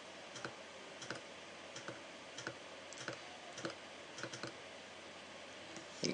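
Mouse and keyboard clicks while editing a photo on a computer, a string of light, irregular clicks at close range, fairly quiet, alone with no talk.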